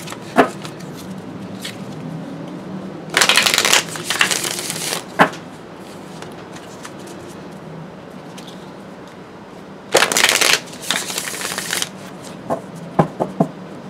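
Tarot cards being shuffled and cut by hand, with two loud riffling shuffle bursts separated by quieter handling taps and clicks, close up and with no talking, light rain faintly in the background.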